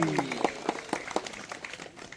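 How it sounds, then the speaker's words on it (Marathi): A group welcomes a Sai Baba palkhi procession with brief, scattered clapping. Light rhythmic claps come one after another, and a voice is briefly heard at the start. "सर्वांनी टाळ्या वाजून स्वागत करा"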